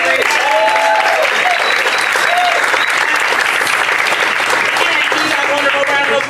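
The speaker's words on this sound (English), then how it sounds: "And give that wonderful round of applause." Loud, sustained round of applause from a stand-up comedy class show audience, dense clapping filling the room with cheers and a voice speaking over it.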